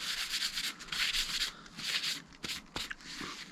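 A cloth rubbing degreaser into the grain of a walnut wooden box, close, soft scratchy swishing strokes in short bursts with a few small knocks.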